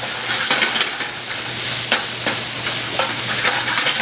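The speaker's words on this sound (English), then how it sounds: "Gonna let that saute for just a few minutes on medium to medium-low heat." Corned beef brisket with peppers and onions sautés over medium to medium-low heat, giving a steady close sizzle with scattered crackles and light stirring scrapes throughout.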